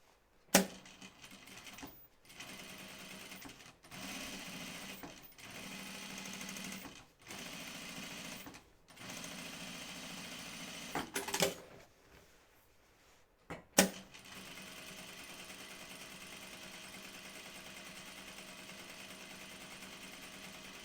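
A home sewing machine topstitching a jean skirt with heavy topstitching thread runs in several quick, steady mechanical bursts separated by short pauses, with clicks and a louder knock between runs, then a final longer stretch of stitching.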